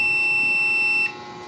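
A multimeter continuity buzzer sounds while an angle grinder is being tested, a single loud, steady high-pitched tone that holds for about a second and then cuts off, leaving quieter electrical hum.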